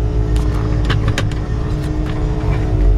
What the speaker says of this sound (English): I love the sound of this engine.